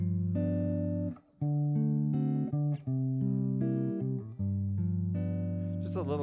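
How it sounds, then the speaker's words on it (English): A run of dominant chords plays on a keyboard, several sustained chords struck in sequence with brief gaps, clear and close with no talking. "if I compare them to dominant chords, it'd sound like this."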